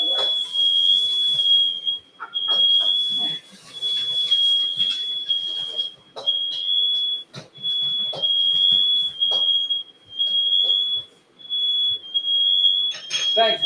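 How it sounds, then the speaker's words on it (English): A piercing smoke alarm set off while cooking a stir fry shrieks in repeated long bursts with brief gaps, loud and close, while people talk and move around beneath it. "And now that's the second alarm."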